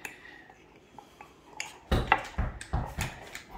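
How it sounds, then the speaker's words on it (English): A utensil scrapes and clinks against a bowl while a mixture is stirred in a home kitchen, starting faint and sparse, then turning into louder, quick knocks and scrapes in the second half. "Now, Collin, it's time for you to stir yours really well."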